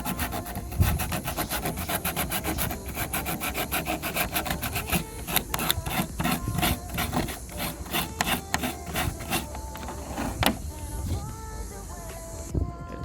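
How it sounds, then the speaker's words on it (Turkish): Steady scraping and rasping of sandpaper against Shimano MT200 hydraulic bicycle brake pads, continuous and close, with quick repeated strokes throughout. "Balatalarımızı zımparalıyoruz."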